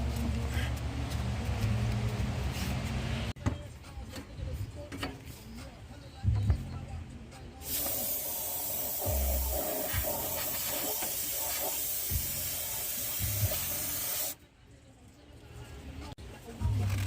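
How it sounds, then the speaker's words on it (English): Brake cleaner sprayed around the water pump area of a 1996 Ford Crown Victoria during a water pump replacement, a steady loud aerosol hiss lasting several seconds, with clanks and shop noise before it. "Some brake cleaner."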